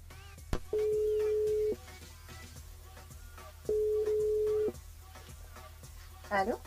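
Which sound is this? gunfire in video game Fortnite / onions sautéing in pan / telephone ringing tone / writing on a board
telephone ringing tone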